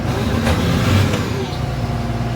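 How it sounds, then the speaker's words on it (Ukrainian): A John Deere 2264 combine engine revved up, a loud, close, steady broadband roar that swells slightly and holds throughout. "Даємо газу, щоб піднялась, закачало"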